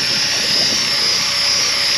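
A radio-controlled model helicopter, built from spare parts, hovers outdoors in gusty wind, its steady loud rotor and motor whine filling the clip continuously with no pauses.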